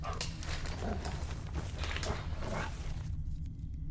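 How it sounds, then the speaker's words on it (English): Dogs bark in a forest in The Witcher 3 video game near a bloodied camp in White Orchard, a series of distant yaps and barks over a steady ambient rumble, fading near the end. "Sounds like there's dogs or something in that forest."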